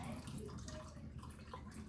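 Rinse water is poured out of a bowl of freshly harvested garden produce, a short continuous splashing gush of water.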